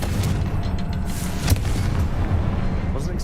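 Blasting-spell explosion in a Harry Potter video game: a steady, dense low rumble of booming detonation with a sharp crack midway, loud and continuous throughout.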